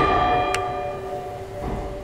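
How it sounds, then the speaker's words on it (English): A single church bell rings once at a memorial ceremony for mass shooting victims at First Baptist Church of Sutherland Springs, its sustained tone fading slowly with a faint second stroke near the end, with no speech. "the bell ringing in honor of the 26 men, women, and children killed during a mass shooting"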